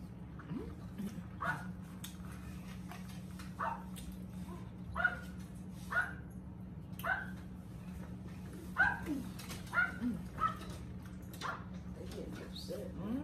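Several dogs bark repeatedly outdoors at a Thanksgiving gathering, bursts of yips and barks at a middle distance, fairly faint, over a steady low hum.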